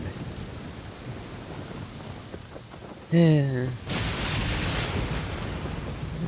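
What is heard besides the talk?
thunderstorm with rain in the video game Genshin Impact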